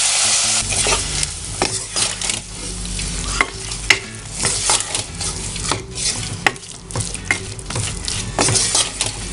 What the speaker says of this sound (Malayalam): എല്ലാം കൂടി ഒന്ന് കൂട്ടി നന്നായിട്ട് ഇളക്കുക